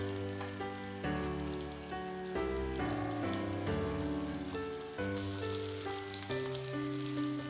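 Cashews sizzle and fry steadily in hot Dalda (vanaspati ghee) for a Thrissur-style mutton stew, a dense continuous crackle with shifting bubbling, close and fairly loud with no talk.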